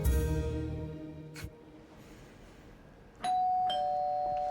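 A loud two-tone doorbell chime rings out at the start, followed by a quieter pause, then another bright electronic chime tone sustains near the end.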